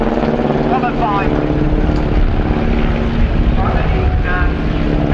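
SE5A World War I biplanes fly at Brooklands during a Great War centenary event, their propeller engines making a loud, continuous drone with rising and falling passes while an announcer speaks over the public address.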